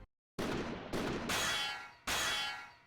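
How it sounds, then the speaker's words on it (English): A gunshot striking a spark from armor in a dark forest in the video game Code Realize, heard as a sharp metallic clang after silence followed by bright ringing bursts, loud and without speech. "A gunshot rings out of the darkness of the forest, striking a spark from the armor."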